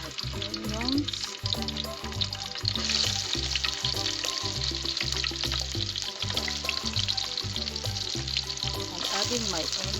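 Chopped onions frying in a pan for a traditional Kenyan village dish, a loud continuous sizzle with stirring scrapes, close up, with a faint rhythmic beat running underneath.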